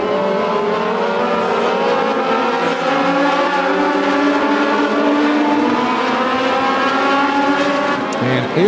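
Race cars roar around a track during a summer feature race, engine notes rising and overlapping in a steady loud drone as the field accelerates, with a commentator's voice running underneath.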